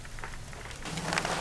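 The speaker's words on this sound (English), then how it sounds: "It's all sleet. And it's still coming down." Sleet coming down outside an RV in winter, a steady fine patter that grows denser and louder in the second half, with no voices.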